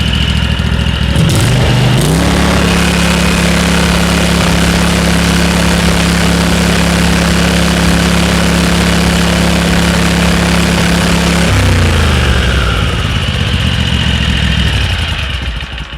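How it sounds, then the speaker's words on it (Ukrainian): A new Loncin LC2V90FD 35-horsepower V-twin engine holds a steady, loud idle hum close by, then its pitch climbs as it is revved up toward maximum speed near the end. "це холостий ход. Зараз дає максимальний оберт."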